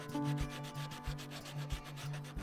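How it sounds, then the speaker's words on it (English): Loose 120 or 80 grit sandpaper rubs along the grain of wood in steady, repeated back-and-forth strokes, close and even, with no voices. "taking 120 or 80 grit sandpaper and just rubbing over like this"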